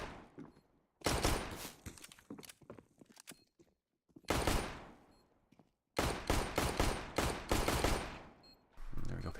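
Glock pistol shots ring out in Counter-Strike: Global Offensive during a pistol round, coming as loud rapid volleys and clusters of cracks with quiet gaps between them and faint footsteps in the background.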